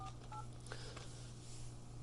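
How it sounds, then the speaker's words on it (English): Keypad DTMF tones dialing on an Avaya J179 IP desk phone, a few short beeps in quick succession over a steady low hum, quiet and close. "You can also just start dialing, and you can see that it's going to automatically activate that speakerphone for me."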